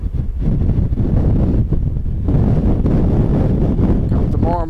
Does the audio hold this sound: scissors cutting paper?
no